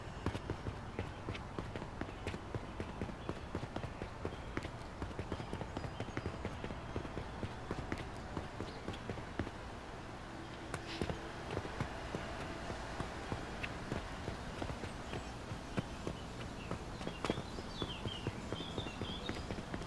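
Character footsteps in an Unreal Engine 5 game level, a steady rapid run of light hard-surface steps that continues for the whole stretch with a brief pause midway, faint and even.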